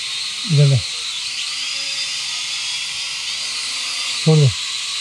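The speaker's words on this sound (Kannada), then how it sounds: "ಇದು ಡ್ರೋನ್" A toy drone in a wholesale toy showroom gives off a continuous high, whining propeller buzz that stays steady throughout, while two brief vocal bursts break in near the start and end.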